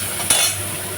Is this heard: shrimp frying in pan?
yes